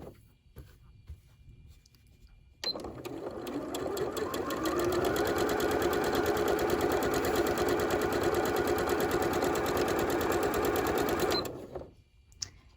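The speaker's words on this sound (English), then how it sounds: "And you see on my machine, I'm sewing with 1/4 inch seam." A sewing machine stitches a quarter-inch quilt seam, starting abruptly, ramping up to a fast steady whirring hum with rapid needle ticking, then stopping; close and clear, with no talking over it.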